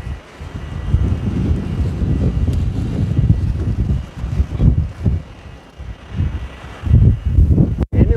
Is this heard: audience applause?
no